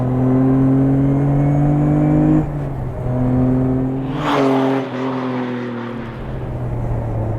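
The Adamastor P003RL, a Portuguese sports car prototype, drives past with a loud, steady engine drone that shifts pitch as it changes gear, then continues at a slightly lower, constant tone.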